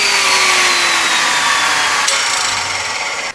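A power saw rips through beveled wooden staves for woodturning, a loud, continuous whining cut with a slowly falling tone that stops abruptly at the end.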